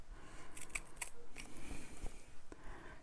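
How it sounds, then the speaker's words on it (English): Sharp scissors snip through fabric near a ribbon in a sewing project, a few crisp close cuts in quick succession over quiet room tone. "So I'm just going to do a little snip like that. So you need some nice sharp scissors"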